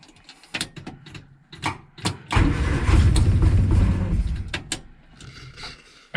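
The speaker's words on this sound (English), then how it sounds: "I wasn't expecting her to start. Obviously she's not running." An old Morris Minor engine cranks with a few sputtering bursts, then catches and runs rough and uneven for a few seconds before dying back down.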